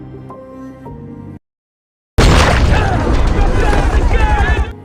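Police open fire in a crime film scene, a dense, loud barrage of gunshots and booming impacts erupting after a moment of silence and running continuously to the end, following a quieter stretch of background score.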